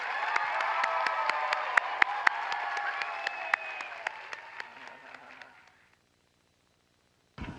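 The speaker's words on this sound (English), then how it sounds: "let's give them a warm round of applause again" Students in an audience at Space Center Houston applaud warmly, with sharp scattered claps and some cheering, fading out to silence before a brief final burst.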